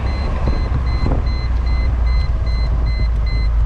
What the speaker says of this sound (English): Yeah, forgive the beeping.